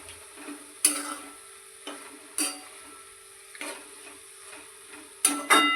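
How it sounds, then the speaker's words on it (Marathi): A spoon stirs ground peanut powder into dry fenugreek (methi) sabzi in a pan, giving intermittent scraping clinks against the metal every second or so, with a faint sizzle between them. "आता हे कूट याच्यामध्ये सगळं मिक्स करून घेणार आहे मी"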